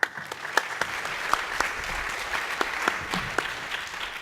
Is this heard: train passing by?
no